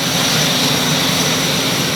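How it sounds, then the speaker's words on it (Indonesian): A CN235 military transport aircraft of the Indonesian Air Force drones loudly and steadily with its engines, a dense, unbroken roar filling the space without any talk. "Ini pesawat CN235 milik TNI Angkatan Udara."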